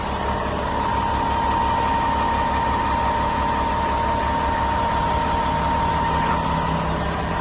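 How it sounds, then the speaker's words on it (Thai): A Caterpillar 950 wheel loader idling up close: a loud, steady diesel rumble with a constant low throb and an even hum, with no voices. "เครื่องก็แห้งๆดีเลยนะครับ เสียงเครื่องนิ่มๆนะครับ"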